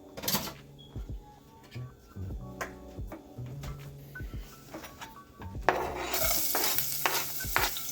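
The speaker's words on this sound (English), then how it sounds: "Bring the heat down just a little bit because we just want it to sweat out a little bit so the beans can get some of the flavor." Onions and garlic cooking gently in a tablespoon of olive oil on a stovetop over lowered heat, with a spoon stirring and scraping the pan in irregular bursts and a soft sizzle underneath.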